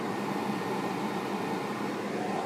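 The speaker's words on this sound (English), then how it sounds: "That's the sound of a charger charging a car." A Tesla charger charging a Tesla Model S gives off a steady, even whirring hum with a fan-like hiss, constant and unbroken throughout.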